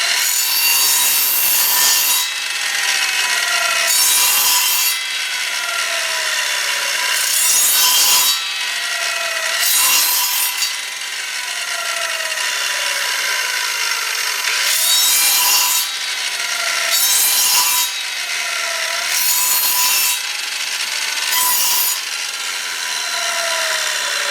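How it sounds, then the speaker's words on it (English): A power tool cuts a dado gate into a wooden board for a beehive inner cover, with loud, close whining cuts in repeated bursts of about two seconds separated by short pauses, and no talking. "we're going to carve in or dado in a little gate right here"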